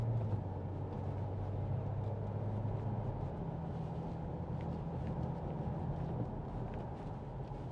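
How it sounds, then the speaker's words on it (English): A 2017 Audi S5 coupe with a 3.0 TFSI V6, Tiptronic gearbox and quattro drive accelerates, heard from inside the cabin as a steady low engine drone with a tone that climbs under road rumble. "The engine sound is just brilliant."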